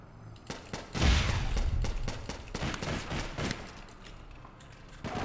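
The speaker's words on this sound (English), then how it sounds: "Why does he keep shooting me?" Gunfire in APB Reloaded, a dense rattle of close shots and bursts starting after a second and continuing through most of the stretch, tapering toward the end with only faint voices.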